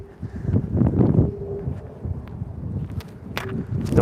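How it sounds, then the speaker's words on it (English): Wind on a street gusts across the microphone in loud, low buffeting rumbles that rise and fall, with scuffing steps mixed in and no talking. "So you all are hearing the wind picking"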